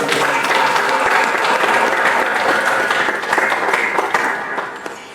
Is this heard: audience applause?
yes